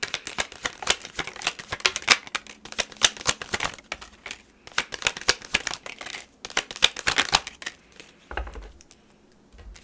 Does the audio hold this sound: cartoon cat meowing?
no